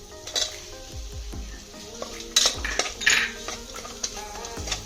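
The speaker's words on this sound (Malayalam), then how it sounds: "നമുക്ക് കുറച്ച് കറിവേപ്പില ഇട്ട് കൊടുക്കാം പിന്നെ നമ്മൾ സവാള ഇട്ട് കൊടുക്കാം" Curry leaves and onions fry in a pan for a jackfruit curry while a utensil repeatedly scrapes and knocks against the metal, giving close, irregular clinks over a low sizzle.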